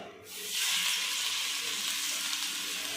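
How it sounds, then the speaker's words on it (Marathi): Vegetable tikkis shallow frying in oil in a pan, a steady bright sizzle that jumps up after a brief quieter moment and then holds evenly, close and alone with no talking. "आता शॅलो फ्राय कसे करायचे ते दाखवते."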